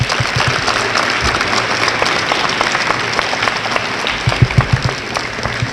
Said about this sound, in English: I need you students to give them a round of applause.